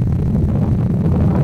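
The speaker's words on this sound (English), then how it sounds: "20 mile per hour winds" Strong wind of about 20 miles per hour buffets the microphone on a February hike at Mercer Meadows, a steady loud low rumble with no pauses and no talking.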